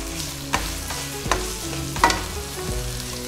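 Strips of peppers for pad thai sautéing in a hot pan, with steady sizzle and about four distinct clanks and scrapes of a utensil stirring at roughly even intervals.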